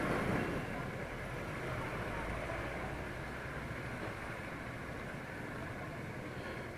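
Motorcycle engine running while riding and shifting gears, a steady broadband rumble with wind noise that stays fairly constant, with no clear gear change standing out.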